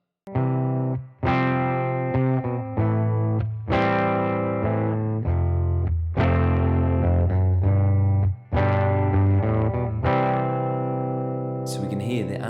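An electric guitar strummed through effects in repeated bars, the and of beat two struck with a louder accent than the surrounding strums, ringing chords with short gaps between phrases.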